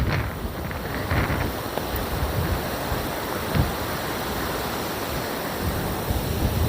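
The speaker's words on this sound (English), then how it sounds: "I hope you can hear me with this wind." Strong outdoor wind buffets the microphone throughout, a steady loud rumbling roar with gusty swells and no voices.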